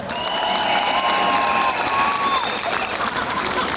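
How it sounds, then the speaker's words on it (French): Crowd applauding at an outdoor street demonstration, steady clapping with some cheering and whistle-like tones mixed in, fairly loud and continuous. "Un tonnerre d'applaudissements pour Gaëlle."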